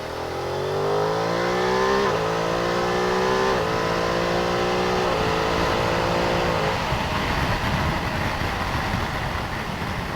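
A Ducati Multistrada V2S motorcycle engine accelerating hard through several quick-shifter upshifts, each gear change a brief dip before the revs climb again, loud and close, ending in a steady high-speed roar.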